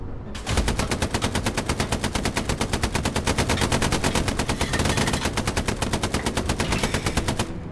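A ship's hull gun fires in Star Citizen, a loud, rapid, unbroken stream of evenly spaced shots that keeps going for several seconds before cutting off.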